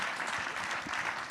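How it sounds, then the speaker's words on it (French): An audience at a round-table panel applauds the speakers, a steady, dense patter of many hands clapping in a hall, even in level and without talk over it. "On va vous applaudir ici."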